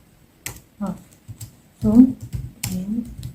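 Scattered clicks of typing on a computer keyboard while entering a file name in a statistics exercise, mixed with a voice talking over them.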